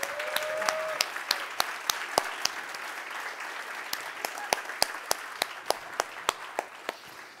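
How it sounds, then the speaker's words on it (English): Applause from a conference audience honoring the organizers, steady dense clapping across the whole stretch with some sharper individual claps standing out, a brief whistle-like tone near the start. "give them a massive round of applause for this amazing conference"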